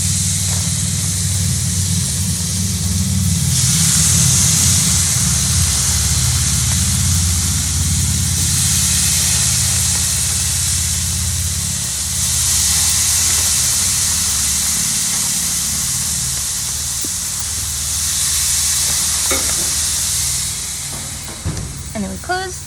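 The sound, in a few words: steaks sizzling on a grill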